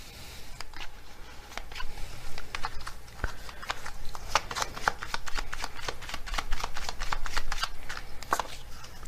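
A deck of tarot cards is shuffled close by, giving rapid crisp riffles and flutters that run steadily throughout with only faint background noise.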